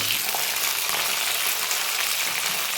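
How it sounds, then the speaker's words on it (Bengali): Potatoes and green chilies fry in hot oil, a dense, even sizzle heard close and loud throughout with no voices. "আলুটা ভালো করে আমি ভেজে নেব"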